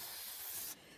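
Lubricant sprayed onto a battery-powered pruning chainsaw, a steady close hiss lasting most of the moment before cutting off abruptly near the end, leaving a fainter background.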